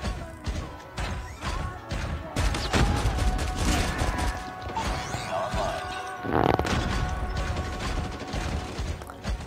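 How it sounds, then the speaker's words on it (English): Gun firing in Call of Duty Mobile during a multiplayer winter mode, the weapon prone to overheating, heard as rapid rattling mechanical bursts and clanks over a busy game soundscape. "that this firing gun, it gets overheated"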